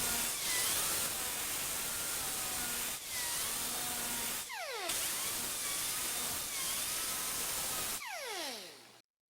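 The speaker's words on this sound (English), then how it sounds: "now we'll fine tune the edge with the grinder" A grinder trims the edge of a rough-cut door panel, grinding steadily in sustained passes with brief pauses, and the motor whines down audibly twice as it winds off.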